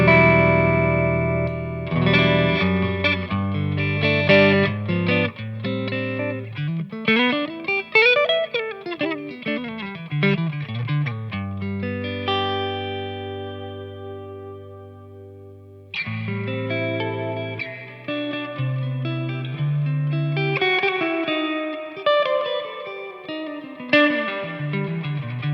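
An electric guitar with hot pickups drives a Victory Lunchbox head, a 25-watt Deputy, into a cab, playing overdriven phrases with effects and echo, including rising and falling runs, a held chord that fades out, then more riffing.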